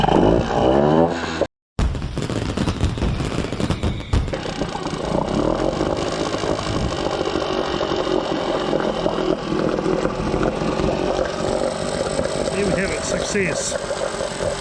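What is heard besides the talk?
small engine starting and idling on choke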